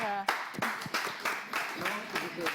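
A crowd claps in quick, ragged bursts of applause, fairly close, with a voice mixed in briefly at the start.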